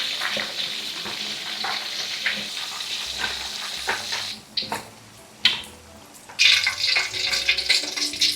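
Food fries in hot oil in a home kitchen, crackling and sizzling steadily while a utensil stirs and scrapes the pan, with short breaks in the sizzle and no one speaking.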